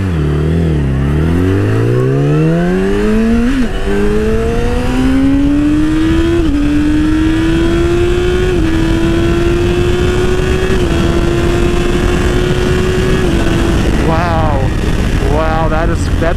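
Yamaha R6 sport bike accelerating hard through the gears, engine pitch climbing steeply then dropping in quick quickshifter steps between several upshifts, loud and close with steady wind roar; a voice speaks over it.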